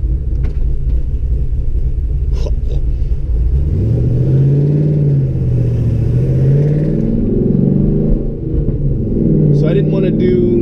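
A Chevrolet Camaro engine idles with a lopey, uneven low rumble that rises and falls throughout, while someone talks over it close by.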